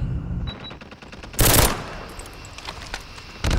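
In a shooter video game, a few sharp hip-fire gunshots crack out, a short burst and a loud single blast followed by scattered lighter shots and a final report.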